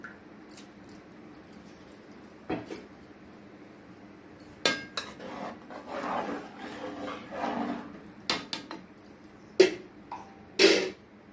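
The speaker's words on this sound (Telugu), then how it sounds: "మేము ఇప్పుడు మూత పెట్టేస్తున్నాం" A metal lid clanks onto a cooking pot of vegetable biryani in a home kitchen, with several sharp, close clatters of pots and utensils spread across the stretch, no voices.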